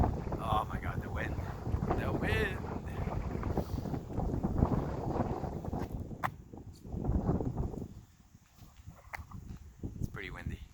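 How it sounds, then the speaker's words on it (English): Strong outdoor wind buffeting a microphone in low, rumbling gusts that rise and fall, heard under someone talking for most of the stretch and briefly on its own. "oh my God, the wind."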